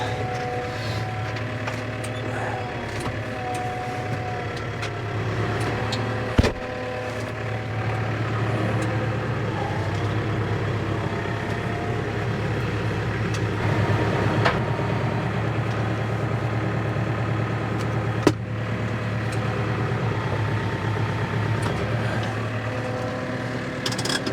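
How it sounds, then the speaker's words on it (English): A tractor engine runs steadily throughout with a constant low drone and mechanical rumble. It stays close and even in level, with a couple of brief knocks and no talking. "Let tractor run."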